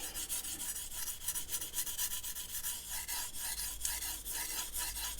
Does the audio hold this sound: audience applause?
no